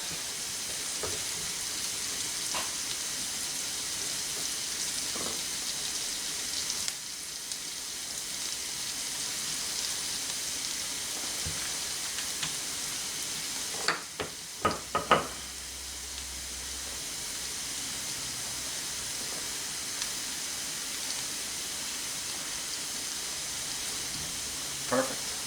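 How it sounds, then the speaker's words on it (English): Scotch collops, pieces of meat, brown in a hot skillet with a steady soft sizzle and hiss, broken by a few brief clatters of handling around the middle, with no talking. "So we'll let those brown off a bit like we did the others"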